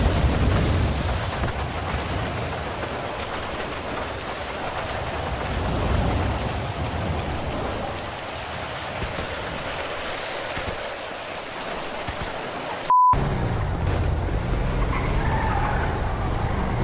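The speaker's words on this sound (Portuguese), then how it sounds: "Tá chovendo" Steady rain hiss in the video game GTA roleplay, with low rumbling, continuous and fairly loud, cut by a brief dropout and a short beep before the rain resumes.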